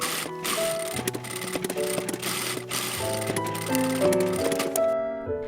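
A sewing machine stitches a fabric travel bag, running a seam about 5 mm from the edge to join two pieces; a steady, close mechanical clatter and whir with rapid ticking, over a tonal background.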